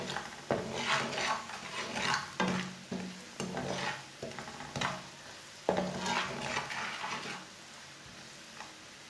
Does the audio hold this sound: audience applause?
no